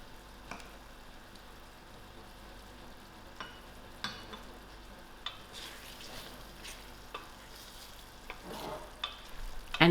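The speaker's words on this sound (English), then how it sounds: "I'm adding in my half a cup of fresh cream to it." Half a cup of fresh cream is stirred into a thick, gently sizzling butter chicken curry, with soft scraping spoon strokes and scattered clicks against the pan over a low bubbling hiss.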